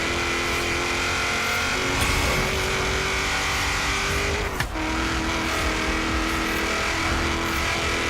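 A 2000 Ford Mustang Cobra R SN95 in Forza Horizon 3 holds a loud, steady engine note through a long pull, with a brief dip midway like a gear shift before the drone carries on.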